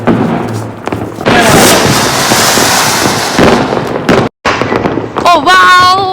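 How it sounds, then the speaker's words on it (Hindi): Diwali firecrackers bursting outdoors in thick smoke, a dense loud barrage of cracks, thumps and pops that fills the whole stretch, ending with a brief gap and then whistling, squealing rockets rising. "सो गाइस अभी हम पटाखे फोड़ने जा रहे हैं।"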